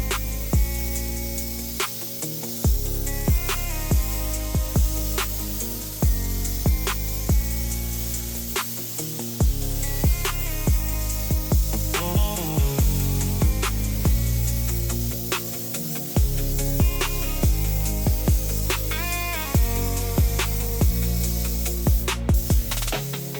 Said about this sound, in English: Let's get the spraying.